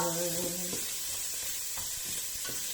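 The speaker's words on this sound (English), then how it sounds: "To this I'm going to add the onions and the leeks." Chopped onions and leeks sizzle and crackle in a hot pan while being stirred, a steady close frying hiss with scraping strokes; a brief melodic voice fragment opens the clip.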